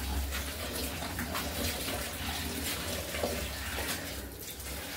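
Tap water runs steadily while leafy greens are washed, a constant splashing rush at moderate level with no talk.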